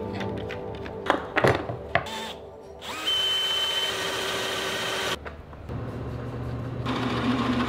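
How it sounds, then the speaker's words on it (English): A cordless drill drives screws into the face frame of a van's built-in cabinet, with irregular bursts of whirring and clunks at first, then a sustained high motor whine near the mic, followed by further steady drilling. "So I'm just putting screws in the exact spots that the first one was."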